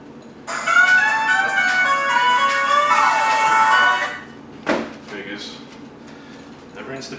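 A phone rings in a kitchen where split pea and ham soup is being made, giving a loud, steady electronic ringtone melody that lasts about three and a half seconds, then stops; a clatter follows and faint background noise remains.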